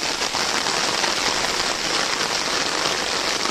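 Rain falls steadily in dense, even hiss and patter on surfaces, loud and unbroken throughout with no voices.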